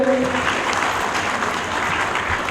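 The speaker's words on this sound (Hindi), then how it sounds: "जोरदार तालियों से अभिनंदन करें।" A crowd claps steadily in sustained applause, a dense even patter filling the space throughout.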